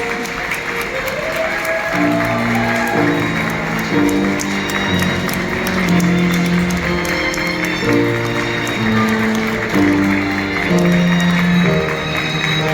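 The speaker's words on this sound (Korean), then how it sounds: "박수와 환호로 신부를 맞이해 주시기 바랍니다" Applause and cheering from wedding guests greeting the bride as she enters, a dense clapping wash running under loud processional music with sustained melodic notes.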